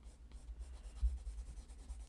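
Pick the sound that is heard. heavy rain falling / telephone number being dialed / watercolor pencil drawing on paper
watercolor pencil drawing on paper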